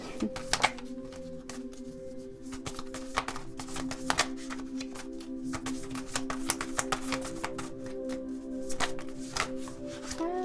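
Rapid, crisp riffling of a tarot card deck being shuffled, quick flutters of clicks over a low steady hum, close and fairly quiet.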